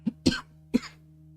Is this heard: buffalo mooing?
no